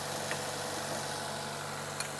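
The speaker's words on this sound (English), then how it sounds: "The engine is running. It sounds pretty good." A Sprinter van engine idling steadily, a fairly quiet even hum heard close with a couple of faint clicks, no voices.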